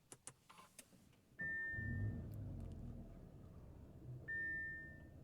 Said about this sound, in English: Bit of a rumble on startup from the 2-liter turbo 4-cylinder.